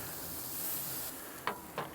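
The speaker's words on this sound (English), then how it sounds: "Definitely need to give us another spray." Two quick, short hissing sprays of liquid onto spare ribs on a Kamado Joe grill near the end, over a soft steady background hiss.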